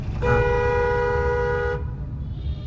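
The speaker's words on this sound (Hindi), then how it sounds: "तो उसको आप अलर्ट कर सकते हो, हॉर्न देके" A single long car horn blast in bumper-to-bumper city traffic, loud and steady, about one and a half seconds, over low road rumble that continues after it stops.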